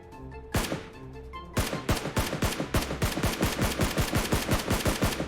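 Gunfire in a shooter video game: one sharp shot, a pause, then a rapid, regular burst of close, loud automatic fire, with game music or tones underneath and no talk.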